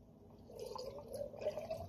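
Ocean Spray 100% cranberry juice poured into a mason jar, a soft, close trickle and gurgle of liquid that grows slightly louder and fuller toward the end.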